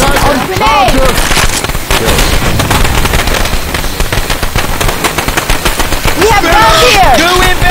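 Rapid submachine gun bursts in Left 4 Dead 2, loud and close, firing in dense sustained volleys with brief gaps, while voices shout over the shooting.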